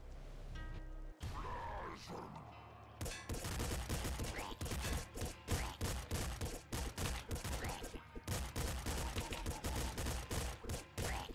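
Rapid bursts of gunfire from the player and enemies in the game Nuclear Throne, a loud, dense barrage of sharp shots that keeps going almost without pause after a brief quieter start.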